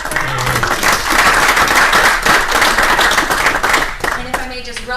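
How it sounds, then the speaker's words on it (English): Sustained applause and clapping fill a city council meeting chamber, dense and fairly loud, with voices talking through it and a short speech-like phrase rising near the end. "Another round of applause for Matthew."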